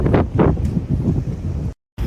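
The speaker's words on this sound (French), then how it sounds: "Alors aujourd'hui il y a un vent, comme vous pouvez voir via mes cheveux." Strong wind buffets the microphone outdoors in heavy low-pitched gusts, loud and rumbling with surges, then cuts out abruptly near the end before returning.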